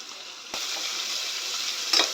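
Onions and green chillies sizzle in hot oil with a bay leaf, a steady close frying hiss that swells when the vegetables drop in and flares briefly near the end, with no voices.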